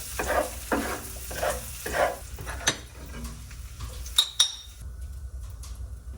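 Onions and garlic browning in a pan, rhythmic stirring scrapes over a light sizzle, with a few sharp metallic clinks of utensil on pan toward the end.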